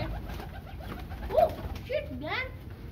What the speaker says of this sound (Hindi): ऐसे मैंने अभी कबूतर देखा